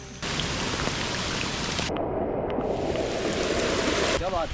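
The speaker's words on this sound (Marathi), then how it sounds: "पाहता पाहता बहुत जोराचा पाऊस सुरू झालाय" Heavy rain pours down in a dense, loud roar in the Adrai forest, Maharashtra, with a brief shift partway through, and a faint voice near the end.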